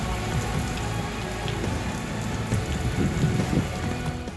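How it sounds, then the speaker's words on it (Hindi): Heavy monsoon rain falls steadily across Karachi during the third spell of the season, a dense continuous hiss of downpour with no voices over it. "कहीं हल्की कहीं तेज बारिश से जल थल एक।"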